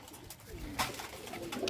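Pigeons coo softly, a few low murmuring calls over background noise, close by.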